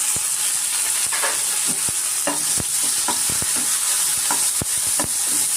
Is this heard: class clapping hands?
no